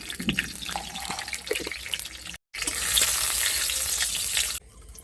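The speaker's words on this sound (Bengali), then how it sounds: "কড়ার মধ্যে দিয়ে দেব তেল, দিয়ে দেবো তেজপাতা, দিয়ে দেবো একটু গরম মশলা" Bay leaves and garam masala frying in hot oil in a kadai, a steady bright sizzle that cuts out briefly, surges louder as the spices hit, then drops off near the end.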